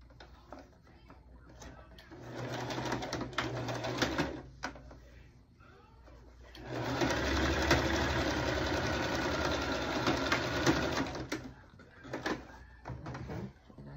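A sewing machine runs in bursts as it stitches fabric for a bow for a car seat canopy, a steady mechanical whir close by, with a longer continuous run in the middle and some soft handling noise around it.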